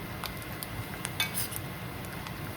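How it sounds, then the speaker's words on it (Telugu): Coconut pieces frying in a little oil in a pan while a spoon stirs them, with a low, steady sizzle under light metallic scrapes and clinks, heard close. "ఇలాగా బాగా ముక్కల్ని ఈ ఆయిల్లో ఇలా వేయించుకోవాలి. వేగుతున్నాయి."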